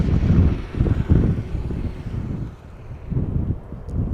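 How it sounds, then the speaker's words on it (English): A KLM Boeing 737 arriving from Budapest at Schiphol Airport: a broad, rumbling jet roar with gusty wind noise, holding steady and fairly loud throughout, swelling slightly toward the end. "Little 737 arriving from Budapest in the background from KLM"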